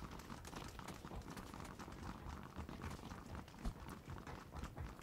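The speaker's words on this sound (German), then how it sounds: "Es sind Pferde." Horses run in the video game Playerunknown's Battlegrounds, a faint, continuous drumming clatter of hooves across the whole stretch.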